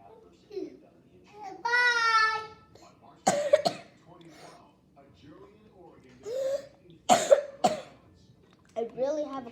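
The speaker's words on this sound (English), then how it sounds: "I really have a cough, guys." A child coughs sharply a few times between bits of close, casual speech, the coughs short and loud.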